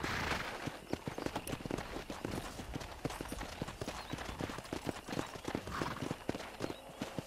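Stallion hooves clip-clop steadily in the Red Dead Redemption video game, a brisk rhythmic stream of hoofbeats at a trot, moderately close and continuous over faint ambient background.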